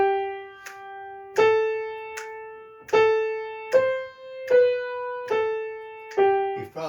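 Piano plays the folk tune Go Tell Aunt Rhody, a slow, clear single-note melody starting with the right hand on B, each note struck distinctly and left to ring in a quiet room.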